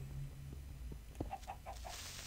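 Minecraft chickens spawning in-game, a short run of four soft, evenly spaced clucks from the game's chicken sounds over a low background hum, with no talk.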